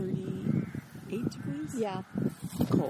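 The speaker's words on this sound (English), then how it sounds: "So hopefully on the recording, people can hear the birds in the background." Crows caw in the background of a cold, rainy Scottish forest with bare trees in early spring, the calls repeated under close conversation.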